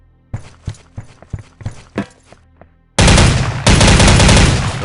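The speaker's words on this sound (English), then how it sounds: "the OICW has single-shot, burst fire, and full auto firing modes" OICW rifle in Soldier of Fortune II: several single sharp shots spaced apart, then a sudden loud continuous burst of full-auto fire that dominates to the end, close and alone without talk.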